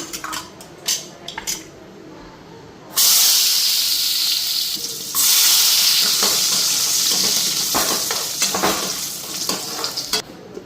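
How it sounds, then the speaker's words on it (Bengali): Cashews fry in hot oil in a pan. The clip opens with a few metal clinks and stirring scrapes, then a loud sizzle bursts in and holds for a couple of seconds before settling into bubbling and scraping utensil sounds. "কাজুটা এখন ফ্রাই করে নিই। তো এদিকে তেলটা গরম হয়ে গেছে,"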